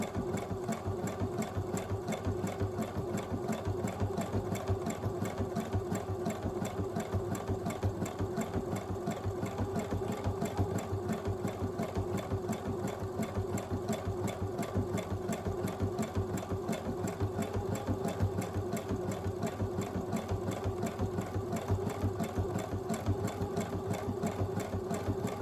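A sewing machine stitches a zigzag buttonhole with a continuous, even mechanical whirr and rapid needle chatter, close and steady throughout with no talking.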